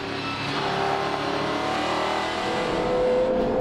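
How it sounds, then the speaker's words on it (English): Porsche GT race cars battle at Assen, steady engine roar with rising and falling tones as the cars run close together, loud and continuous with no speech. "Battle of the Porsches right in front of us."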